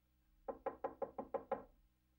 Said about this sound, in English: Wasn't his knock 3 quicks, then 2 slows?